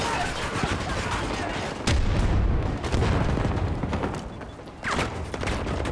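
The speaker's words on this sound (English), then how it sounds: "Dropping an explosive!" Gunfire and blasts from an online shooter game rattle throughout, with a heavy explosion thumping in near the middle and another burst later, layered under a player's talk.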